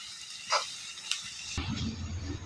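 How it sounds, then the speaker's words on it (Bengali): Onion fries in oil in a wok over a stove, a soft steady sizzle and hiss close by, broken by a few light clinks. "একটা কড়ার ভিতরে তেল দিয়ে কিন্তু পেঁয়াজটাকে প্রথমে একটু ভেজে নিচ্ছে"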